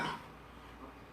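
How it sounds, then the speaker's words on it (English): A man's short coughing fit with a throat clear, brief and fairly close, the burst loudest at the very start and end of a quiet moment in a radio studio. "Just having a bit of a coughing fit."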